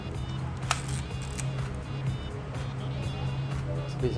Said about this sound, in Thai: อันนี้ผมจะเอามือปิดวัดแสงสปีดชัตเตอร์มันก็ช้ากว่าปกตินะ